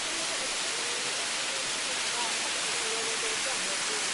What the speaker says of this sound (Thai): น้ำตกตาดสะดอหรือน้ำตกก้อน้อยนะครับ